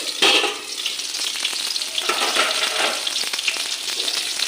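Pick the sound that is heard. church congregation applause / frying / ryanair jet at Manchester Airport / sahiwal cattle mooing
frying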